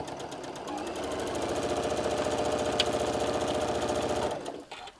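A sewing machine stitches a half-inch seam on a large hexagon-panel bean bag, a fast steady mechanical whir running continuously for several seconds, close and even, before stopping abruptly.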